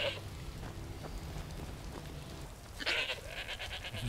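A goat bleats in Skyrim, a single wavering cry near the end, heard over a steady noisy rain-like background hiss.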